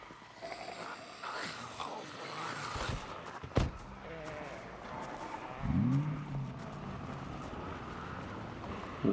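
A Police Chevalier cruiser with a 570-horsepower engine in Project Zomboid, idling low then rumbling up into a revving surge midway, moderately loud, with someone talking over it.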